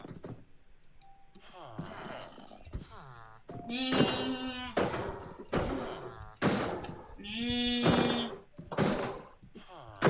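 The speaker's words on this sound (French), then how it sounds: "Des moutons." Sheep bleat in the Minecraft video game, a few drawn-out tonal calls spaced several seconds apart, mixed in with a player talking.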